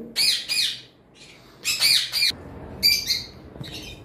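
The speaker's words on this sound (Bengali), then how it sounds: "ডিএনএ কার্ড সহ ব্রিডিং পেয়ার সানকুনুর রয়েছে" A sun conure from a breeding pair gives loud, harsh squawks close by, in paired bursts, with short quiet gaps between the groups of calls.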